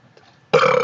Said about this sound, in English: Son, could you burp for us one more time?